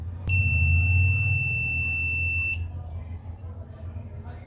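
A UPS control kit sounds its low-voltage warning during tuning, a single sharp, loud electronic beep that holds steady for about two seconds and then stops abruptly over a low hum in the background.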